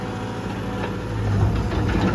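A Caterpillar 320GC excavator's diesel engine runs steadily with a smooth, low rumble that swells slightly toward the end, heard up close with no voices.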